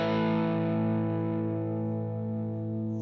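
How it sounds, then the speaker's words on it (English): An electric guitar played through an overdrive pedal and a stereo amp rig rings out as one loud, sustained distorted chord that slowly fades over about three seconds, with no talking. "It's a overdrive."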